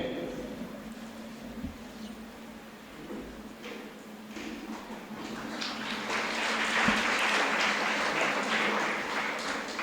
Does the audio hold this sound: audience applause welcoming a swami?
yes